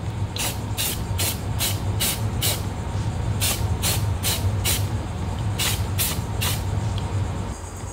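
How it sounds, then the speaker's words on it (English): Cheap craft-store spray paint can coating a homemade fishing lure, with repeated short hissing bursts in an irregular series over a steady low background rumble. "Just using some cheap spray paint."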